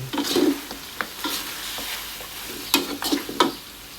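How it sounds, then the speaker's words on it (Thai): Shrimp paste stir-fried with pork ribs in a pan, a close steady sizzle punctuated by irregular scraping and clinking stirs of the spatula, with no talking. "ใส่กะปิลงไป ผัดให้เข้ากัน"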